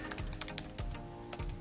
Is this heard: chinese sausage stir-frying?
no